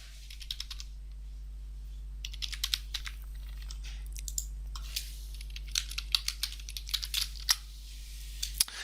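Keystrokes on a computer keyboard as a login is typed, arriving in short irregular bursts of light clicks over a steady low hum, close and fairly quiet, with no talking.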